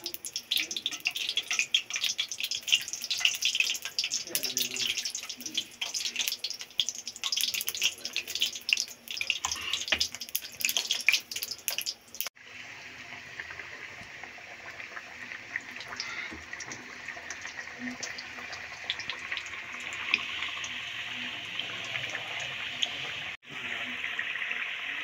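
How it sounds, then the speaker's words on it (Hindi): Potato samosas fry in hot oil in a wok, giving a continuous hissing sizzle that crackles busily at first, then settles into a smoother, softer bubbling hiss. "कढ़ाई में मैंने ऑयल डाल दिया है और ऑयल गर्म हो गया है। अब हम इसमें समोसे डालते हैं।"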